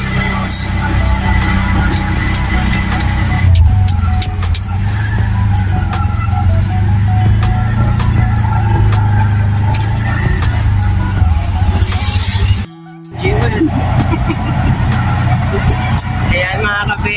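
A car rolls along a road with a continuous low engine and road rumble, with one brief dropout near the end, while people chat inside the cabin.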